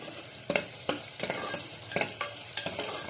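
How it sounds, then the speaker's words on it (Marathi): Onion fries in a pan toward softness with a continuous sizzle, while a spoon scrapes and clacks against the pan about every half second, close up. "आता हा जो कांदा आहे आपल्याला हा पूर्ण ट्रान्सपरंट होईपर्यंत म्हणजेच मऊ होईपर्यंत आपल्याला हा फ्राय करून घ्यायचा"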